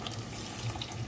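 Water trickles and splashes softly as it is poured into a ground red spice paste for a Malvani surmai fish curry, a faint, brief and steady pour with no talk over it.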